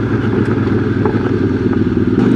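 A QJ Motor SRT 600 SX midsize trail motorcycle on Metzeler tyres rides along a stony gravel path, its engine a loud continuous drone with gravel clatter and occasional thumps throughout.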